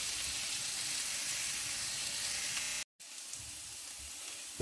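Tofu burger patties with spring onion fry in a pan, giving a steady close sizzle that drops out briefly partway through, then resumes just as strongly.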